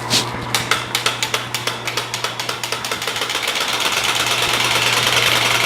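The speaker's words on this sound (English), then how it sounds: "Are you ready to hear this exhaust?" A motorized bicycle engine fitted with a new exhaust fires in quick, distinct pops that speed up until they blur into a loud, continuous buzzing drone, close to the listener.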